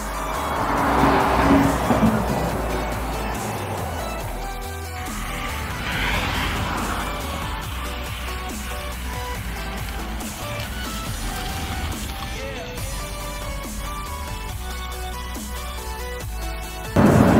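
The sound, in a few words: BMW rally car driving a test lap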